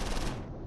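Gunfire and cannon rounds in the Close Combat IV war game, a dense, loud burst of overlapping shots and blasts that fades slightly toward the end.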